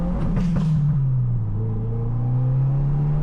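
A Subaru VB WRX engine revs close, a few sharp crackles early, then pitch dips at a gear change and climbs again into a steady rising drone, no speech.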